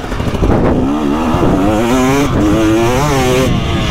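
Two-stroke 300cc motocross dirt bike, a Yamaha YZ 300 or KTM 300 SX, revving hard on a track, its engine note rising and falling in repeated loud surges close by, with no talk.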